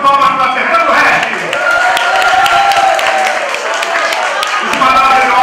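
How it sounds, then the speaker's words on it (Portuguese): Round of applause from a crowd at a Rio de Janeiro event, steady and sustained throughout with cheering voices mixed in. "Pessoal, mais uma salva de palmas para Fernando Resch."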